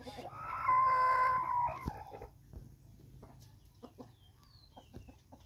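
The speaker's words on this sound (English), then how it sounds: "My chickens." Village chickens, a rooster among them, call at sunset: one loud drawn-out crow-like cry up front, then scattered soft clucks and faint chirps over a quiet low hum.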